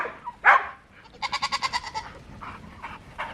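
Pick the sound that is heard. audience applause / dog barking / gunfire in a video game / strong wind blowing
dog barking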